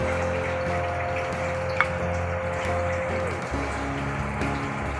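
Warm water runs steadily into maize flour dough in the foreground against a low, constant hum, with one small clink partway through.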